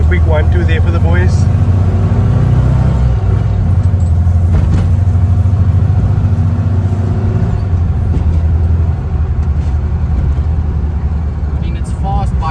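A stance car's engine drones loudly and steadily from inside the cabin while driving, a low rumble with rising and falling revs, with a person talking over it.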